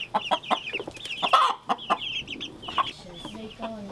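Several chickens cluck in a garden coop, with repeated short calls and squawks close by in an uneven stream, some louder bursts among softer chatter.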